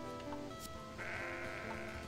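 Sheep bleating in the video game Sudeki, a brief nasal bleat from a single straggling sheep over steady game background ambience.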